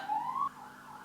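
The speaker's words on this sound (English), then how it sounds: "What is that siren?" A distant siren tone rises and wavers briefly, then fades lower, heard faintly over steady ambient noise.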